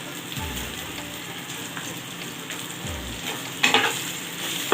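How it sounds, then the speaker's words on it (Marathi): Green chillies fry and soften in a pan with a steady crackling sizzle, broken by a few low scraping stirs and a brighter burst of spattering toward the end. "मिरच्या चांगल्या फ्राय करून चांगल्या भाजून घ्यायच्या"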